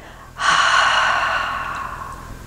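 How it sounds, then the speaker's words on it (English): Breathy open-mouthed exhale, like fogging up a mirror, starts sharply and holds steady as one long, close, fairly loud breath with no talking. "let's just open our mouths for a moment and breathe out."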